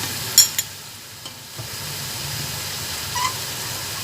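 Garlic and ginger fry in a pan for a biryani, giving a faint, steady sizzling hiss with a couple of brief clinks near the start and no talking.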